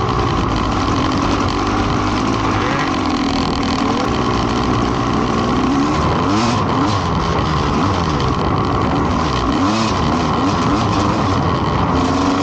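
A motorcycle engine revs hard for a wheelie, a loud, dense, continuous roar mixed with rushing wind, heard close up with no talking.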